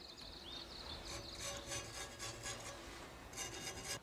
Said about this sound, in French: Je recouvre la lame avec de l'argile noire pour donner au tranchant de la lame une ligne de trempe qu'on appelle le hamon.